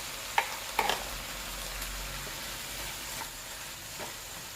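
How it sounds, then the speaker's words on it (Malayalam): Butter chicken sizzles gently in a pan as it is stirred after kasuri methi powder is added, with a few sharp spoon clinks early on over a steady soft frying hiss. "ഇതിലേക്ക് ഒരു ടീസ്പൂൺ കസൂരിമേത്തി പൊടി ചേർത്തിട്ട് ഇളക്കി കൊടുക്കാം"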